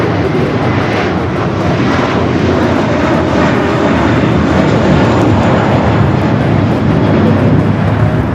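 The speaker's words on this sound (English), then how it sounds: "This is American Airlines Flight 4 taking off to JFK on the A321" An American Airlines Airbus A321 takes off for JFK, its jet engines roaring as a loud, steady broadband rumble close by that holds for the whole stretch with no voices.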